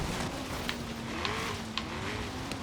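A race car engine drones steadily in Forza Horizon 3, a held tone with shifting pitch and a few sharp clicks or impacts, tires hissing underneath, no talk.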